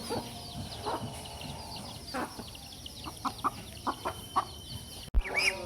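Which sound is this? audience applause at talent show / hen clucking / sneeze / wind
hen clucking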